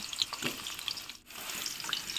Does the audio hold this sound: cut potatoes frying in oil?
yes